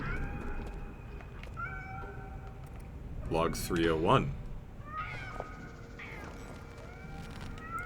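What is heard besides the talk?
cats meowing in the video game Nine Sols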